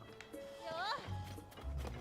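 Horse hooves clip-clopping in the video game Zelda: Tears of the Kingdom, faint and intermittent under a rising whinny-like call and people talking over the game.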